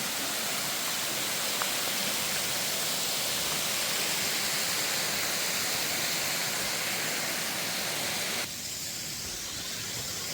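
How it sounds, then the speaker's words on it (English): Machine Falls, the largest waterfall in the park, roars in mid December as a steady, dense rush of falling water that fills the whole scene and drops slightly in level near the end. "This is called Machine Falls. And this is the biggest waterfall in the park"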